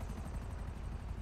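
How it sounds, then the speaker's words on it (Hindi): A helicopter in the video game Grand Theft Auto V gives a steady, continuous rotor drone with a low throbbing pulse, held at an even level throughout. "अरे हेलीकॉप्टर उधर"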